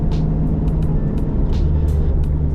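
A turbocharged Mazda ND Miata engine drones loudly and steadily from inside the cabin, a deep continuous rumble with faint hisses and clicks over it.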